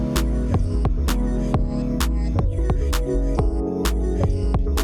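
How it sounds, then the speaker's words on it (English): A punchy UK garage beat loops with booming kicks in a skipping, syncopated two-step pattern and sharp claps snapping at regular intervals, loud and upfront, with no snare. "So our kick and clap patterns sound like this."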